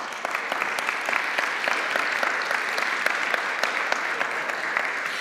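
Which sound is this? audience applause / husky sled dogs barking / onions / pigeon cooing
audience applause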